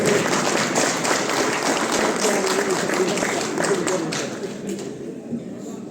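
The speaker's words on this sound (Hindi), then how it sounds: "तालियां बजाओ" A crowd's dense, continuous clapping from an audience, with voices mingled in, loud and sustained before tapering off in the last second or so.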